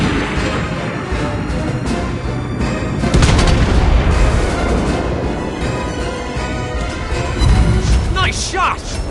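USS Indianapolis firing its naval guns in World of Warships Blitz, with heavy booming salvos over a dense battle din and a game voice speaking over them.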